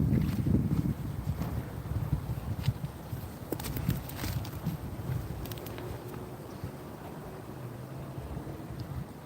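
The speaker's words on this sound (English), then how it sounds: "It's getting rainy and windy." Steady wind buffets the microphone outdoors, a continuous rough rumble with gusty swells and no talking.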